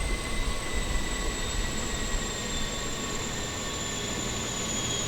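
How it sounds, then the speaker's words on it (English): Airliner engines spool down after landing at Eagle County Regional Airport in Colorado in Microsoft Flight Simulator, a steady broadband roar with faint high whine, even and continuous throughout. "You can hear our engines slowing down."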